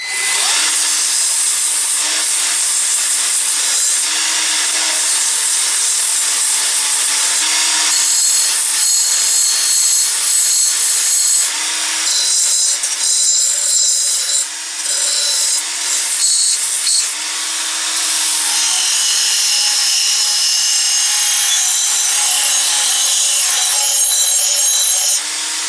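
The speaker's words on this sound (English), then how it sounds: "So let's start with a bit of steel." A Lidl Parkside PBFA 20-LI A1 cordless belt sander working a piece of steel, giving a steady, loud, bright high-pitched grinding whine with a droning motor hum that dips briefly under changing load.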